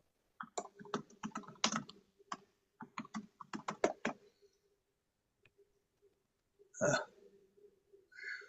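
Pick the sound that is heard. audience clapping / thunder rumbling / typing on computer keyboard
typing on computer keyboard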